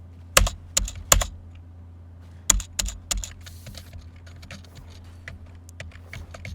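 Keys on a computer keyboard clack while typing chat in Valorant: a few loud, sharp strokes in quick bursts, then softer, faster taps fading into a low hum, with no talking.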